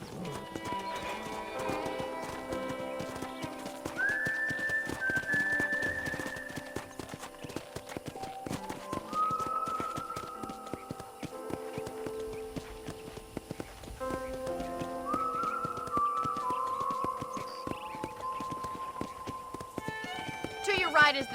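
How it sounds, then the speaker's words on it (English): Horse riding in the video game Red Dead Redemption: steady rhythmic clip-clop hoofbeats throughout, with whinnies and tonal game sound layered over the trotting. "let's see if you can still ride a horse"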